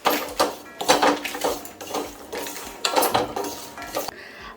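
A spoon stirs makhana with coriander powder in a metal pan, giving repeated scraping and clinking strokes in an uneven rhythm, loud and close, with no talk.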